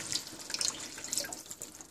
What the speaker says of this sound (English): So I'm putting around 1/2 cup of water in it.